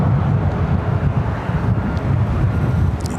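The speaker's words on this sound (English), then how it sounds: "these winds are going to be high winds, extreme winds" Strong Santa Ana–type extreme wind near LAX during the Palisades Fire roars and buffets a nearby microphone, a steady low rumble of gusts throughout with no voices.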